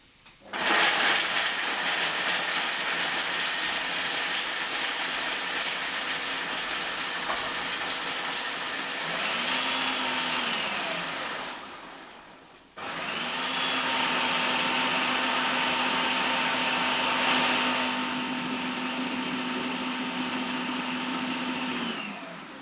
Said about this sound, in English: in the food processor we're going to put the 100 grams of walnuts and we're going to blitz them into a flour, so really fine